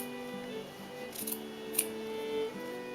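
Scissors snip through a short-sleeved cotton T-shirt along the seam, a few quiet crisp cuts in a near-silent room, with one sharper snip standing out.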